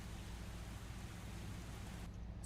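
Steady rain falling in the X-Plane 12 flight simulator, a continuous hiss of droplets with a low rumbling undertone, even and unbroken throughout.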